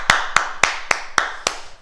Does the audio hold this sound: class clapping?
yes